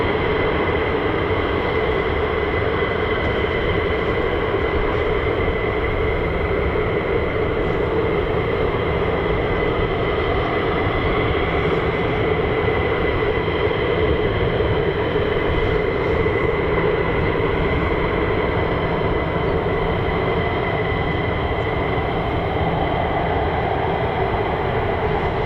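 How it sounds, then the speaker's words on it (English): An F-15 fighter jet with Pratt & Whitney F100-PW-229 engines departs at RAF Lakenheath, producing a loud, continuous, steady engine roar that stays constant throughout. "A beautiful departure. Powerful Pratt & Whitney F-100 PW229s"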